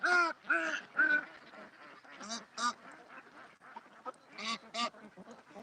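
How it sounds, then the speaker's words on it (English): Ducklings quacking in a rapid series of close, fairly loud calls, with some overlapping voices in the background. "Are these ducklings gonna die?"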